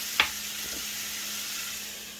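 Hawaiian-style Spam fries and crisps in a pan with a steady, soft sizzle that runs through the whole stretch, broken near the start by one sharp clink.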